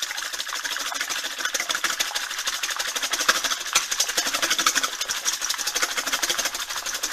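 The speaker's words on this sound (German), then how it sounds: "jetzt habe ich da meine fünf Eiklar, gebe da eine Prise Salz hinzu und schlage das Ganze auf" An electric mixer whips five egg whites with a pinch of salt. It gives a steady, loud mechanical whir with a rapid rattling pulse that runs without a break from start to finish.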